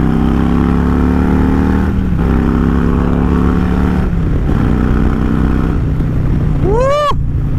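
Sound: Harley-Davidson Stage 2 117 motorcycle engine revving

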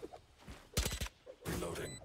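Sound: gunfire in a shooter video game

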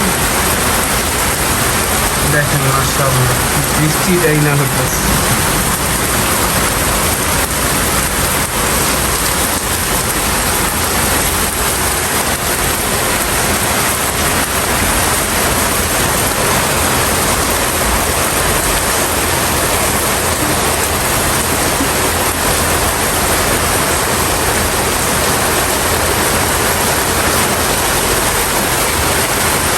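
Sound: rain falling

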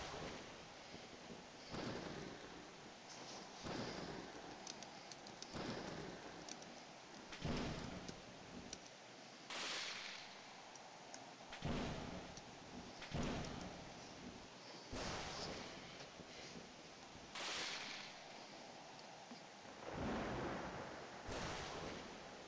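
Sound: thunderstorm with rain and thunder in the video game Roblox

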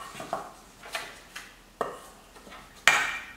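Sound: stirring a mixture of salt and cooking oil

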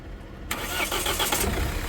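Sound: Mahindra XUV500 W10 engine starting with single self crank

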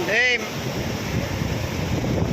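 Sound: ocean waves

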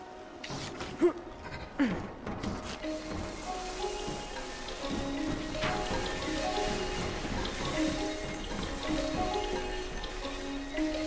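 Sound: rain in the video game Concrete Genie

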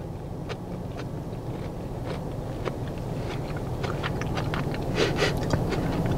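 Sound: crunching while eating corned beef hash with potatoes

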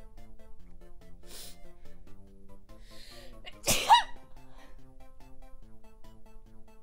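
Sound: sneeze

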